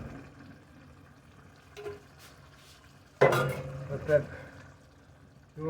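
Canned tomatoes are tipped into a big skillet with a sudden wet splash and clatter, followed by a few stirring scrapes and a metallic knock, sparse and close, with quiet sounds before and another burst at the end.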